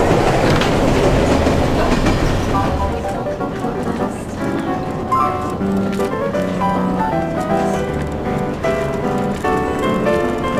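A Manx Electric Railway tram on the Isle of Man rumbles along rails with rhythmic clicking of wheels over joints and occasional metallic squeals, loud and close, with talking mixed underneath.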